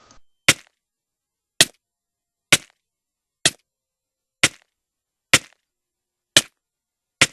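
Repeated damage sound from a bat being hit in Minecraft, the same hurt sound the player makes, eight short sharp hits spaced about a second apart with silence between.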